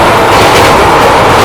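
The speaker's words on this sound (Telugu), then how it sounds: "రోల్ లోపల గసగసాలు వేసి దంచినట్టు కచ్చ కచ్చ కచ్చ కచ్చ కొడుతున్నాడు బండి" The Pinakini SF Express clatters loudly along the rails in a dense, steady roar of wheel rumble and rattling, heard close from on board with no speech.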